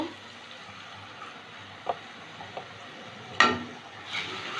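Ground cumin, turmeric and Kashmiri chilli powder sizzle softly in a pan as a splash of water goes in, a steady low hiss broken by a few light clinks and one sharper burst near the end.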